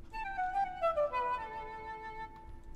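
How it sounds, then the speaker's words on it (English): Wood flute voice from a Yamaha MX-61 keyboard plays a short descending melodic line of sustained, breathy notes with rich overtones, moderately loud and alone, with no talking. "Here are those notes being performed on a wood flute, which is actually from my Yamaha MX-61 again."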